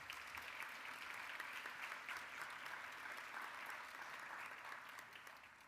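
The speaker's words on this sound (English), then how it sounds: "Let's give them all a round of applause." Sustained applause from a crowd at a nursing school white coat ceremony, steady and full throughout, tapering slightly near the end with no talking over it.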